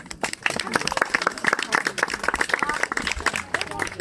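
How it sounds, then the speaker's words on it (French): Spectators at a 1900-themed costume parade in Breteuil clap in quick, uneven bursts, fairly close, with voices mixed in beneath the applause. "Alors on peut les applaudir."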